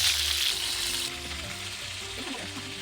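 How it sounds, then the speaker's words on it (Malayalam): Chicken wings for Kerala-style spicy hot wings frying in hot oil, a steady close sizzle with bright hiss that eases slightly partway through, alongside a few faint stirring clinks and no talking. "എണ്ണ ചൂടായി ചിക്കൻ വിങ്സ് വറക്കാൻ തുടങ്ങുകയാണ്."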